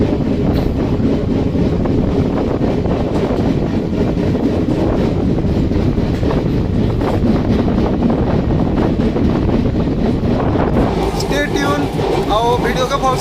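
A train pulls away from Thiruvali railway station on a Bhubaneswar to Bhawanipatna route, steady loud rumble with heavy wind buffeting the microphone, and sharper metallic rattles near the end.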